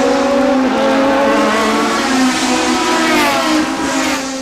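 Toyota Atlantic race cars blasting past the start-finish line at about 110 mph, loud and close, a dense, continuous engine roar with overlapping engine tones and no pause.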